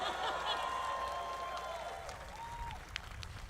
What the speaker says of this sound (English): Yeah, you can clap, that's all right.